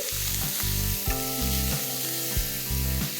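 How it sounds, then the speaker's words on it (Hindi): Finely chopped onions fry in ghee with whole spices, a loud close sizzle broken by rhythmic stirring strokes about every half second, with a tonal hum throughout and no voices. "अब डालेंगे कटे हुए बारीक 2 प्याज। प्याज को चला लेंगे।"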